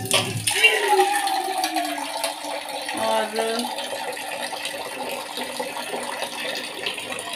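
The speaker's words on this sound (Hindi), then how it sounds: "पानी बहुत गंदा आ रहा है" Tap water running during the rainy season, a steady rushing flow with some rattling clatter, loud and close throughout, under a brief spoken word.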